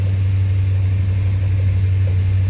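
An old, worn-out car engine idles with a steady, loud low rumble and hum that holds evenly throughout, with no voices over it.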